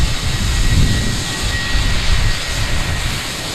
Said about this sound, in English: I love the sound of those engines.